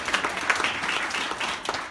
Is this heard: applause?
yes